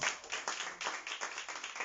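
A church congregation claps in a brisk burst, many hands striking in quick, slightly rhythmic waves, moderately loud and close.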